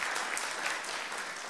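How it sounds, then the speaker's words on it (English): A church congregation at a Sunday service claps in a brief, dense burst of applause, steady and fairly loud for the whole moment with no talk over it. "Do you want to give them a big clap for doing those videos?"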